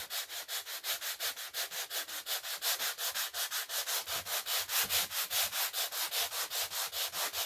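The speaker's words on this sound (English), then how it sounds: "I just want to kind of coast across this surface of the chalk paint and pull some of it off, just like you would distress real wood" Sandpaper is rubbed lightly back and forth over a chalk-painted surface to distress it, a fast, even rhythm of soft rasping strokes, close and steady with no talk.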